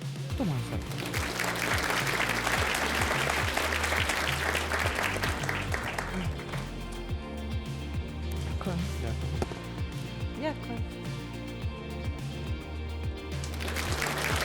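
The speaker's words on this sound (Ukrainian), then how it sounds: "Ваші оплески." A studio audience on a Ukrainian televised song show applauds, thick clapping strongest in the first half, then thinning as music and voices take over.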